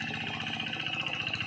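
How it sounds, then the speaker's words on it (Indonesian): Modified tractor engine running steadily in a rice field, a continuous close mechanical drone with even low pulsing and no talk over it. "Ada traktor, kok ada payungnya ya Pik?"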